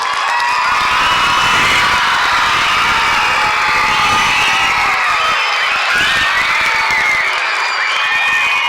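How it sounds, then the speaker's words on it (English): An audience at an elementary school music festival with 700 students on stage claps and cheers, a dense, loud and continuous roar of applause with shouts and whoops. "give them a big round of applause"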